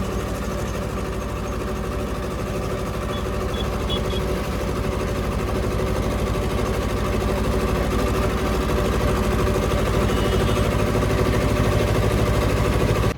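A tractor engine runs steadily on a road at night, a continuous close, loud drone with a slight rise in loudness toward the end, heard without voices.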